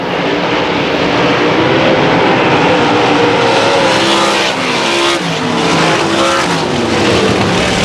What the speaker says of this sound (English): Kenny Edkin around Davey Walsh as they battle for 5th, wheel to wheel down the back straightaway.